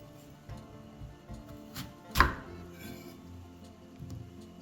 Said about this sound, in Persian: به‌ها رو که پوست کردیم قاچ میکنیم